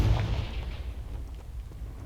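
A Confringo blasting spell explodes in the video game Hogwarts Legacy. A heavy, booming burst at the start rumbles and decays over the next two seconds.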